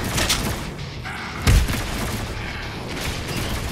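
Heavy gunfire and explosions from the shooter game DOOM Eternal, a dense continuous roar with one deep booming blast in the middle and no talking.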